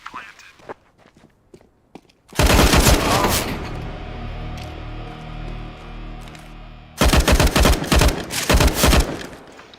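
Gunfire in a tactical shooter game arrives as two loud bursts of rapid shots, the first followed by a decaying rumble and the second a tight cluster near the end, with quiet footstep-like taps before.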